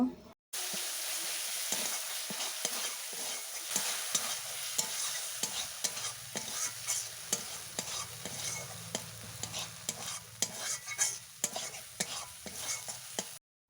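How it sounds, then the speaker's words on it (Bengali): Cumin paste and spice masala stirred and frying in a pan, a steady sizzle broken by repeated scraping strokes of a spoon, close and fairly quiet. "জিরে বাটা দেওয়ার পর ভালোভাবে নাড়াচাড়া করে আমি মশলা কষিয়ে নেব"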